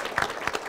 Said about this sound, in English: Let's have a big round of applause for Bill Virdon.